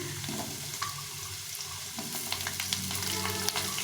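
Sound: potato and carrot frying and stirring in a pan

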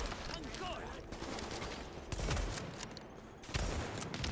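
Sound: gunfire in The Division video game

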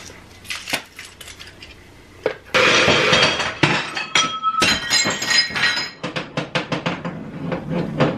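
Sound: glass bowls falling out of a cabinet and breaking

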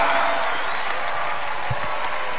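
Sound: crowd applauding after basketball win

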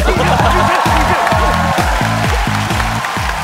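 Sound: audience applause at a comedy show

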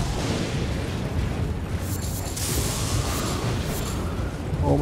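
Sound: lightning strikes in the video game Elden Ring

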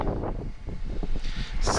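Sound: strong wind blowing outdoors, wind noise on microphone

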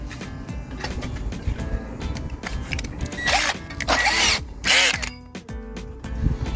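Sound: drilling out door card fasteners on Skoda Octavia A5

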